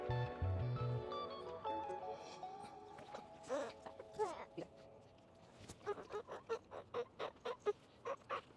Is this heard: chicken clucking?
yes